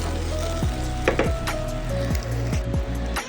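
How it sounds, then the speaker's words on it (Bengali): Pointed gourd frying in white cooking oil in a pan, giving a steady close sizzle with a few scraping stirs from a spatula, and no talking. "দিয়ে দেবো 2 টেবিল চামচ সাদা তেল, দিয়ে আবারও ভালো করে ভেজে নেব"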